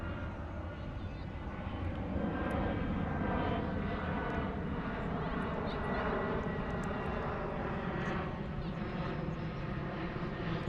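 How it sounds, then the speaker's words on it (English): A small airplane passes overhead above Richmond in London, a steady, continuous engine drone holding throughout under a broadband whoosh, with no talk. "So we've got a plane coming."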